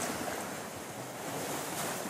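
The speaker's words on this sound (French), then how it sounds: "Le bruit des vagues et le son des cloches" Sea waves washing onto the shore along a Mediterranean coastline, a continuous broadband surf wash mixed with wind buffeting the microphone, with no voices.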